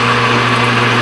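A lathe motor runs at close range with a steady, loud hum and a whine above it, heard alone without talk.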